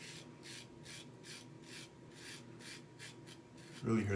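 A fairly mild safety razor shaves lathered skin against the grain under the chin, giving a faint, rhythmic scraping of short strokes repeated about twice a second, close and quiet. A brief louder rustle comes at the end.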